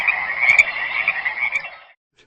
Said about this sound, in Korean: 마지막 그 울음소리는 청개구리 울음소리였습니다.